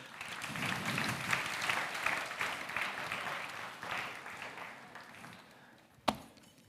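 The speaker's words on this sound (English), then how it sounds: "Yes, applause." An audience at a QA tech conference charity gathering applauds in a moderately loud, continuous patter that rises and falls slightly before fading, with a single sharp knock near the end.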